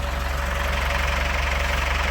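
A Ford 5610 tractor engine idles steadily close by, a continuous low, even chugging throb with no voices over it.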